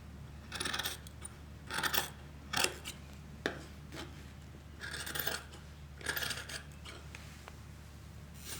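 Scissors cutting through a fabric sewing pattern, repeated crisp snipping strokes in short bursts with brief pauses between, close and moderately loud, no talking.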